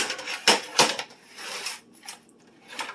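A metal cookie sheet handled in a home kitchen gives a few sharp clanks and rattles close by, followed by quieter scraping and light knocks.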